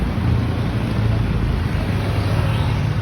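A modern jeepney engine with a low-power fault drones steadily under full throttle, a loud, continuous low hum that never climbs in pitch, close to the microphone with no talking.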